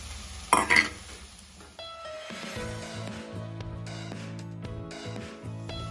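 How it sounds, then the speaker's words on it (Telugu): Fried prawn mixture stirred into a chilli-spiced prawn masala curry: a brief clatter of the spoon against the pan, then a low, even sizzle that carries on alone. "తర్వాత మనం వేయించుకొని పక్కన పెట్టుకున్న రొయ్యల మిశ్రమాన్ని కూడా వేసుకోవాలి"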